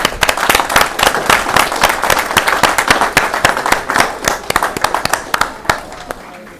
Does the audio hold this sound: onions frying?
no